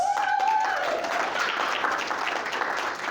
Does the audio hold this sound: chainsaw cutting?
no